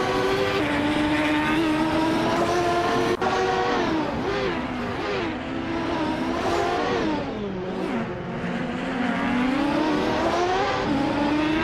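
Lola T9500 IndyCar race cars from the 1995 class lapping Snetterton 300 in a racing video game, a loud continuous engine whine rising and falling through gear changes for the whole stretch, with no talk.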